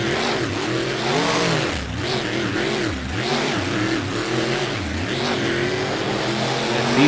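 Monster trucks roar off the starting line in a racing game, engines revving loud and continuous with repeated rising and falling pitch sweeps as they accelerate and shift.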